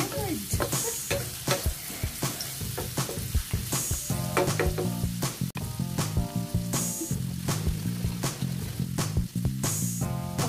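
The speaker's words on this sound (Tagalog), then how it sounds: "Ginisa ko na yung ating ricado." Aromatics for laing sauté in a hot pan with a steady, loud sizzle, broken by frequent scraping strokes of a spatula as they are stirred, over faint background music.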